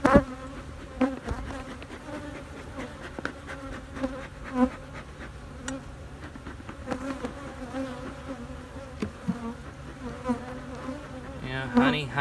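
Honey bees buzz steadily and loudly around an opened hive during an inspection, a dense continuous drone close by with individual bees zipping past, and no voices over it.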